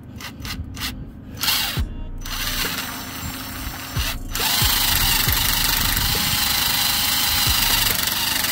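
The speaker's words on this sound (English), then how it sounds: "Now we're gonna grind this rust off with this wire well." A drill-mounted wire wheel grinds rust off brake parts on an old Chevy or GMC, starting in short bursts and then running as a loud, continuous whirring scrape with bristles rasping against metal, close up and without speech.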